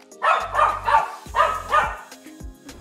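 A pet dog barks loudly and close by, about five sharp barks in quick bursts with short pauses between them.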